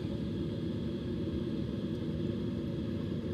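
A simulated fixed-wing airplane, flaps down, comes in low to land in a flight simulator game, giving a steady, loud engine drone and rumble with no one talking.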